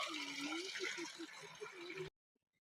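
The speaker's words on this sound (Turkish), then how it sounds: "Şöyle derenin içi burası. Yine akıyor su." Creek water flows close by on the Karanga plateau road, a loud steady rushing and gurgling that cuts off abruptly after about two seconds into near silence.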